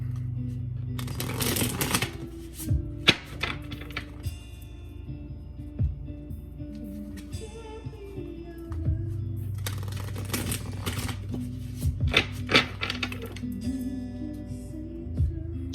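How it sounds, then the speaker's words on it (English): Tarot cards are shuffled in repeated riffling bursts, crisp and close, with short pauses and soft handling between rounds. "Do 2 more shuffles"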